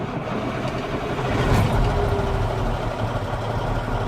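A truck engine, started in neutral, runs at a steady idle with a dense, rumbling drone that swells slightly midway and then holds even, close up and with no talking.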